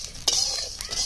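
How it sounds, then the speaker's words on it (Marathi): Whole spices for Solapuri black masala are dry-roasted in a pan with a spoon scraping and stirring, giving two sharp clattering strokes over a faint crackle. "फक्त हलका असा याचा जो फ्लेवर आहे तो इन्हॅन्स होण्यासाठी आपण हे भाजून घेत आहोत."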